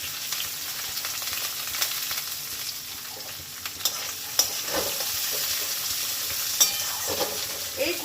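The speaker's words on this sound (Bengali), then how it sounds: "এই দেখো, ফোড়নটা দিয়ে আমি দিয়ে দিচ্ছি কুচনো পেঁয়াজ।" Chopped onions hit hot oil with tempered whole spices and keep frying with a steady close sizzle for a mung dal with katla fish head. Soft stirring scrapes and a few clicks come through the hiss.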